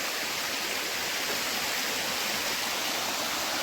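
Benare waterfall near Seethampeta in Srikakulam district drops between high hills, making a dense, unbroken roar of falling water that stays loud and even throughout, with no voices.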